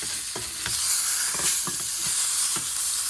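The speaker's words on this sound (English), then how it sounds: "Let's go ahead and see if we can get some of this fat to sear a little bit too." Meat fat searing on a hot barbecue surface, a broad steady sizzle with soft periodic pops and shifting bursts as the meat is pressed down, close and fairly loud, with no voices.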